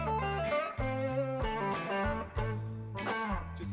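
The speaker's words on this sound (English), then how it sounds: "I've created a few backing tracks which are going to be available for download as well." Blues backing track for guitar practice plays with layered guitar-like chords and a steady bass line in a loose, repeating rhythm, full and continuous with no talking.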